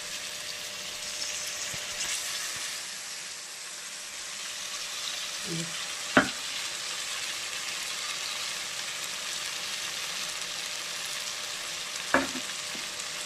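Ground spice mix sizzles in a pan with softened, melted tomato for a tangra fish curry, giving a steady close-up frying hiss with a couple of sharp clinks of a utensil against the pan.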